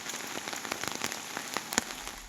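Heavy rain falls in Bidar, across Aurad taluk, as a dense, steady patter of close drops striking a surface, with scattered sharper splashes and no voices.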